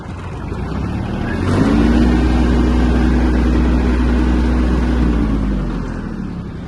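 A Japanese Iseki TK-25 mini tractor pulling off in fourth gear, its diesel engine rising to a loud steady hum with a clear tonal whine, then easing off at the end.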